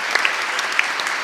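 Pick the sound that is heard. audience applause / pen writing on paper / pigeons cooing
audience applause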